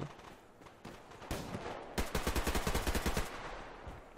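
Gunfire in the Survarium video game: a few scattered shots, then a rapid, loud automatic burst of roughly a dozen evenly spaced rounds.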